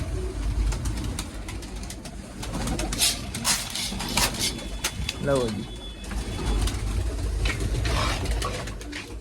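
Pigeons coo near and clear while being fed maize grain in a loft, soft repeated coos with wing flutters and scattered grain sounds, under occasional brief talk.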